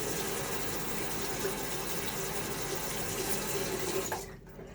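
Water runs steadily from a tap into a shaving brush during a wet shave, a continuous close hiss and gurgle that cuts off near the end, with no one talking.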